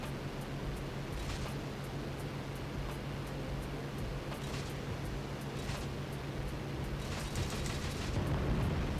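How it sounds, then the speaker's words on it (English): Hawker Typhoon Mk.Ib cannon rounds bursting on the ground in a flight combat video game, a dense roar of repeated short blasts in quick bursts over a constant rushing engine drone. "Maybe that's just the sound of the cannon rounds exploding on the ground."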